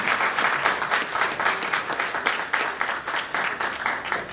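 Audience applause at a Houston meet-and-greet event for a comedy stage team, a dense, steady wash of many hands clapping that runs loud and unbroken throughout.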